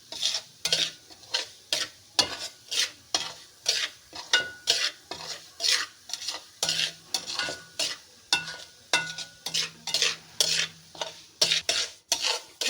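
Semolina roasts in a pan for egg halva over a medium flame, a spoon scraping and stirring in a steady rhythmic loop of strokes, each one close and crisp, with a faint sizzle underneath.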